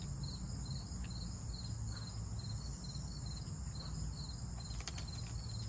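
Steady insect chirping, likely crickets, continues throughout at a constant level with a fast repeating rhythm, close by and outdoors, with no talk over it.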